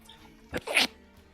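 A single close, sharp sneeze, short and abrupt, breaks into a quiet background during a break in a tabletop role-playing game session.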